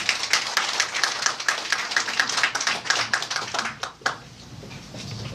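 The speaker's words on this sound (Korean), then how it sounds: "큰 박수로 환영해 주시면" A crowd of party members applauds at a Bareunmirae Party meeting in southern Gyeonggi Province, dense steady clapping filling the room before thinning out near the end.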